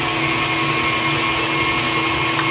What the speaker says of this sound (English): we are gonna start whipping these eggs into shape